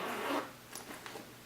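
A zipper pouch on an Ergo baby carrier is unzipped, a short rasping zip near the start followed by a few lighter tugs and rustles of the fabric, close and fairly quiet.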